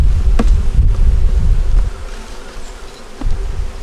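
Dense buzzing of honey bees swarming around a hive, a steady close drone filling the air, louder at first and then easing slightly with brief swells, no voices.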